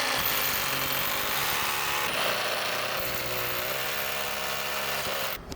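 A power drill runs loud and steady at close range, boring holes into a wall for wall-hung folding clothesline brackets, with a continuous whine that holds without a break until it cuts off at the end.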